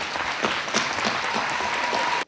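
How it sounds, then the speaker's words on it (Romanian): Audience in a school hall applauding students at a national college anniversary celebration, loud sustained clapping from a large crowd that stops abruptly at the end, with no voices over it. "să se ridice în picioare pentru a fi aplaudați de întreaga sală"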